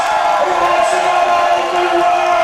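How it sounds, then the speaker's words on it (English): A crowd at a powerlifting championship cheers and applauds in a steady, dense roar that stays loud and unbroken throughout, with no pauses or breaks in the noise. "Give him a round of applause."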